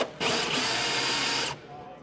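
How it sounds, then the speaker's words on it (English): A Milwaukee Quik-Lok hole saw bores through material, a steady loud power-drill whine running about one and a quarter seconds before cutting off, close up. "if I was going to drill this hole"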